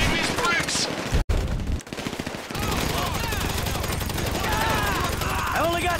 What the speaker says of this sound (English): Mike, you planning on shooting these bricks?